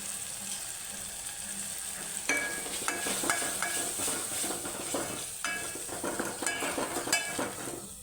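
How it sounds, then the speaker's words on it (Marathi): Kolhapuri-style spice paste being sautéed in oil for a fish curry, a low sizzle broken by repeated scraping, clinking spatula strokes against the pan, close and steady with no voices. "हे वाटण थोडंसं असं व्यवस्थित तेलामध्ये चांगलं परतवून घ्यायचं तेल सुटेपर्यंत"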